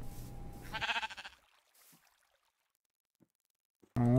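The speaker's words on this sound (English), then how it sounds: "there's a ton of sheep" Sheep bleat in a Minecraft-style video game, a couple of wavering calls near the start, then near silence with faint clicks before a loud burst at the end.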